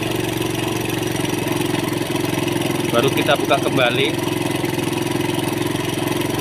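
A Suzuki Thunder 125 motorcycle engine idles steadily and loudly, close by, during air screw adjustment, with a brief rise in revs; someone talks over it.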